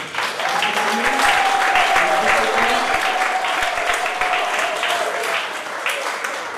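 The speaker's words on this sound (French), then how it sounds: "peut applaudir Jésus-Christ." Church congregation applauding during a Sunday worship service, a steady dense wash of clapping that holds for the whole stretch, with a sustained sung or spoken tone riding over it.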